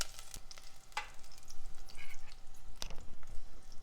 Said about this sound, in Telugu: పచ్చిమిర్చిని చక్కగా వేగనివ్వాలి.